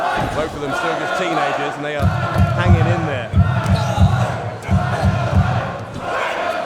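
Commentator's microphone being thumped in a steady rhythm at a Defiant Loaded wrestling show, a series of deep, regular thuds that keep time for the crowd. They sit under continuous excited commentary and arena crowd noise.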